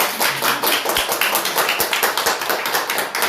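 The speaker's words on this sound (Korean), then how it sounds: "우리 한번 박수로 그래도 한번 환영할까요?" Church congregation applause welcoming someone: dense, continuous clapping from many hands, loud and close, filling the whole few seconds with no talk over it.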